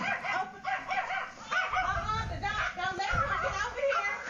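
A dog barks and yips repeatedly in quick bursts, fairly close and loud, with a voice speaking and shouting over the barking.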